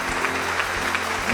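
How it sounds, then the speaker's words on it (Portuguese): A congregation at a Portuguese-language church service applauds, a steady wash of clapping with a low sustained hum beneath and a few thumps through it. "Vamos aplaudir bem forte a Cristo."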